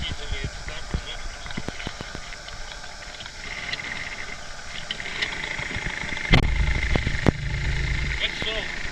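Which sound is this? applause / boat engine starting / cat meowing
boat engine starting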